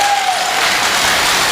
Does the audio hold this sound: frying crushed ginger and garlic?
no